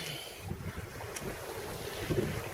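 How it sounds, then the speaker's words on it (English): A sailboat moves under sail in a breeze on calm water near an island, with steady wind rush against the microphone and soft water washing along the hull. "breeze has come in and we're able to sail"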